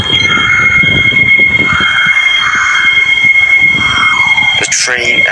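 Loud metro train on an airport rail line rolling along from Delta Expo, with constant wheel roar, a sustained high squeal, and a brief sharp screech near the end, while voices talk in the background.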